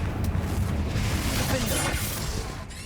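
Confringo explosive spell in Hogwarts Legacy, a loud, continuous rumbling blast with heavy low-end roar that gradually tapers, a crackling burst near the end.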